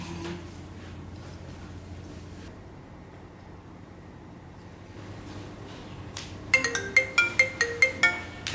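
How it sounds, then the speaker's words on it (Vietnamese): A mobile phone ringtone sounds in a Vietnamese drama scene: after several seconds of quiet room ambience, a rhythmic run of bright, repeating electronic tones starts up close and clear near the end. "em nghe điện thoại giùm anh cái đi"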